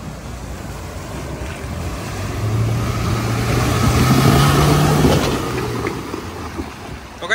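Fast, deep water rushes and surges as a Mahindra Scorpio S11 fords it off-road, a broad churning roar that swells in the middle with a low engine hum underneath, then eases off.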